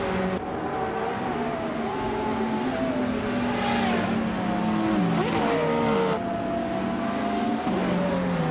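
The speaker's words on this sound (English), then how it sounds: "the race just kicked off at Highlands Motorsport Park" Race cars roar off the line at Highlands Motorsport Park in a racing video game, a 1998 Porsche 911 GT1 among them, engines revving loud and close with rising and falling pitch as gears shift, sustained throughout.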